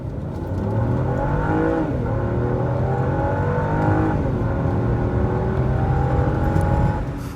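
A Volvo S60 T6 AWD with a Polestar tune pulls hard from 0 to 60, engine note rising steadily through the gears with a brief dip at each shift, loud and close with no talking.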